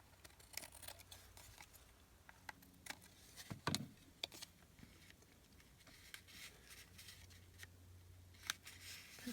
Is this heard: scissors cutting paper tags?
yes